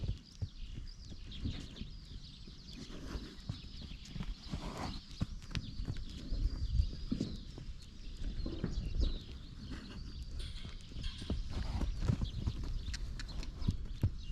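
Horse hooves beating a steady clip-clop as the horse works at trot during a riding exercise, close and continuous, with faint outdoor background and no talking.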